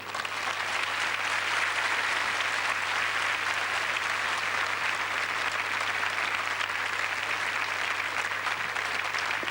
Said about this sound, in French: Je vous demande d'applaudir toute l'équipe de Rémi Julienne.